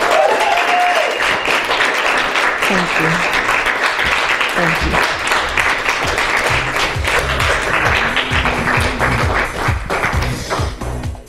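Audience applause at a live speaking event, dense and sustained clapping filling the whole stretch at steady volume, with a speaker's voice briefly heard over it.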